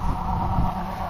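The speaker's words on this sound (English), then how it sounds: "sorry about the wind" Wind buffets a camera microphone outdoors during work on a Dana 30 axle, a steady, close, roaring rush with low rumbling gusts throughout and no voices.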